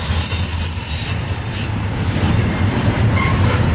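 A long mixed freight train of lumber cars, boxcars, autoracks, stack cars and manifest cars rolls past close by, a loud continuous rumble of wheels on rail with faint squeals and clatter.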